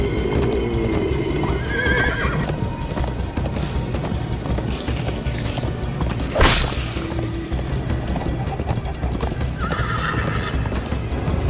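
Horses neigh and gallop in the Minecraft Story Mode video game, with loud, steady hoofbeats running throughout and whinnies rising early and late over a busy game soundscape.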